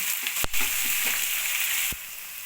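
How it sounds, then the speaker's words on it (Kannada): Chopped onion and ginger frying in a pan for avalakki uppittu, a steady close sizzle with two sharp knocks of a spoon against the pan. "ಚೆನ್ನಾಗಿ ಮಿಕ್ಸ್ ಮಾಡಿ ಚೆನ್ನಾಗಿ ಕೆಂಪಾಗೋವರೆಗೂ ಫ್ರೈ ಮಾಡ್ಕೊಳ್ಳೋಣ"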